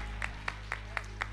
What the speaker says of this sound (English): Come on, clap your hands for the word of Hallelujah.